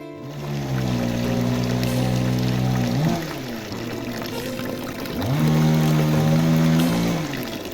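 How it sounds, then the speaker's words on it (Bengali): Tap water pours into a bucket in a steady, close stream, its pitch rising as the bucket fills. The pour is heard in two filling spells. "ভাবলাম যে তোমাদেরকে একটু জলের শব্দটা শোনাবো"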